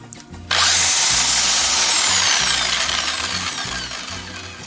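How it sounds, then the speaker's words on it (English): An electric drill clamped in a vise spins a container holding a raw egg to scramble it inside its shell, a loud whining motor that starts abruptly, holds a steady high pitch with a rhythmic rattle, then slowly winds down. "Now here we have the drill clamped into a vise to hold it"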